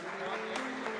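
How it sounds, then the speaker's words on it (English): Applause for the lone Kuwaiti player at the opening ceremony of a squash under-23 world championship, a steady wash of clapping from the hall with a faint tone running underneath. "let's give him a big round of applause for representing his country"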